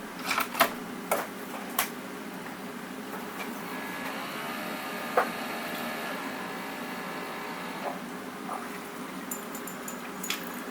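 A Breville BKC700XL coffee maker runs after a water valve repair, giving a steady low mechanical hum with a faint tonal whine and a few sharp clicks and taps scattered through it.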